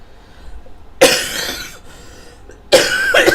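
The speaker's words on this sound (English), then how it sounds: "my coughing is not doing very well this morning" A person coughing in two harsh, close bursts separated by a short pause, with a faint throat rasp between them.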